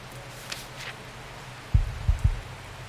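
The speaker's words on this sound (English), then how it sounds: "I just heard a heartbeat thing." Heartbeat in the video game Strange Horticulture, a few deep low thumps in a quick irregular pair-like pattern following a quiet hiss, close and fairly loud.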